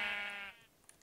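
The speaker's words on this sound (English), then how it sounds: "Those were rainbow sheep." Sheep bleating in a block-building video game: one strong harmonic bleat that fades after half a second, followed by a few faint ticks, with no talk.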